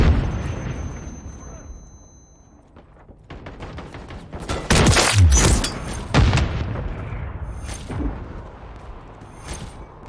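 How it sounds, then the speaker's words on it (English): A stun grenade explodes during a team deathmatch on the Terminal map in Modern Warfare 3, a sharp, loud burst set among scattered gunfire and clatter, with brief in-game voice callouts. "Throwing stun grenade."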